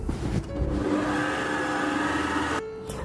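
An electric hand mixer beats cheesecake batter with a cup of granulated sugar, giving a steady motor whine that runs for about two and a half seconds before cutting off near the end.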